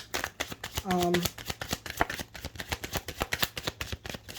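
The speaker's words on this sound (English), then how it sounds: "I will shuffle them during the video as well" Rapid riffling and slapping of a deck of tarot cards being shuffled close by, in quick repeated bursts, with a brief tonal squeak partway through.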